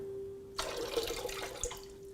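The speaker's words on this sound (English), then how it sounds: "if we just pour some water in it" Water pours steadily into a glass Klein bottle, a close, continuous splashing and gurgling that starts abruptly and runs for over a second and a half, with a faint steady hum underneath.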